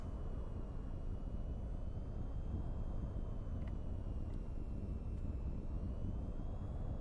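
Steady, loud aircraft engine drone from a jet climbing after takeoff in the VTOL VR flight game, continuous and unbroken with a faint high whine on top.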